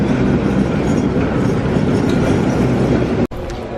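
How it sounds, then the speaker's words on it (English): Old locomotive-hauled train on the Yangon circle line in Myanmar rumbling past at close range, a loud continuous roar of wheels and carriages with clattering rail noise that cuts off abruptly near the end. "So these are the sort of old school locomotives that they drive in Yangon"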